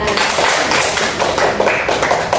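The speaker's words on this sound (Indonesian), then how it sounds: "tepuk tangan untuk kita semua." Dense applause from a group fills the whole stretch, a steady wash of many hands clapping at once, fairly loud and close.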